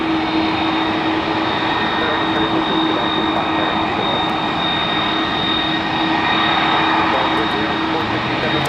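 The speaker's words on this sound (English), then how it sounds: "Delta 10 taking off now on runway 30 left for London" A Delta jet airliner bound for London takes off from runway 30 left at Minneapolis–St. Paul Airport, producing a loud, continuous engine roar with a sustained whine that holds steady for the whole stretch.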